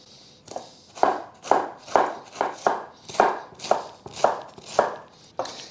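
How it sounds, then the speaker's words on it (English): A knife thinly slices cored, home-grown garden cabbage in about ten evenly spaced, crisp cuts, each close and distinct, with no voices. "I always cut out the core. And then just thinly slice the cabbage."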